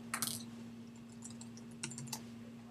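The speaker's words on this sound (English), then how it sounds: "I'm going to type in princess." Short bursts of typing on a computer keyboard, a few quick clusters of close, light key clicks over a steady hum, no talking.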